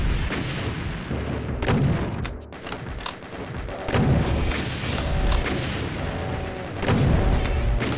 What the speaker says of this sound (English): These fucking rockets are so scary.